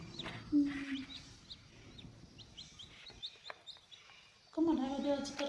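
Kadaknath hen with her newly hatched chicks, giving short high cheeping and clucking calls scattered through the clip, with a louder burst near the end, over low background noise and a voice.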